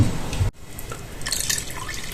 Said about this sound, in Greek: εγώ προφανώς θα προσθέσω άλλες 4 κούπες νερό